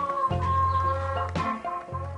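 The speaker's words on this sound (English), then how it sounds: "The chickens quickly start scratching and foraging on the barn floor." Chickens forage and scratch on a barn floor, giving a few close, low clucks and drawn-out calls in short bursts, with no talking.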